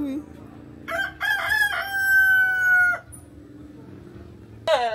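A rooster in Guadeloupe crows once, a loud, close, drawn-out cock-a-doodle-doo with a rising start and a long sustained tail, standing alone over faint background, with another crow beginning at the very end.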